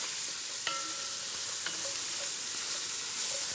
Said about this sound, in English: We're gonna scrape the bottom down here.